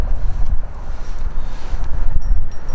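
Gusty wind buffets the microphone outdoors on a breezy day, producing a loud, uneven low rumble that pulses irregularly throughout with no voices.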